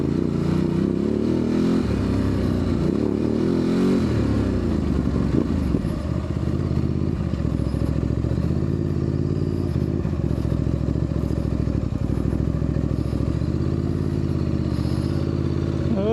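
A Ducati DesertX motorcycle engine drones and labors steadily at close range off-road, rising and falling in pitch, with rattling and clatter from rough terrain throughout.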